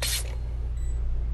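A short hiss of a blue spray can bursts at the start in the Five Nights at Freddy's Help Wanted 2 VR game, then fades to a quiet hum.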